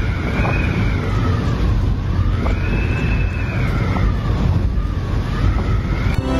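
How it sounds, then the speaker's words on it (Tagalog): Strong typhoon wind in Casiguran, Aurora, howls and whistles continuously, its pitch rising and falling in eerie waves over a steady low roar. "Pakinggan natin ang hangin na ating naranasan kagabi."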